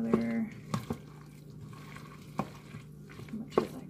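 Milk being stirred into Thanksgiving leftovers, a few soft scraping, clicking stirs against the container over a short stretch, close and fairly quiet.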